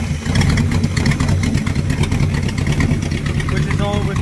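An LM 318 BWL engine runs after being started with a makeshift starter button, a loud, close, steady rumbling idle throughout with a voice talking over it.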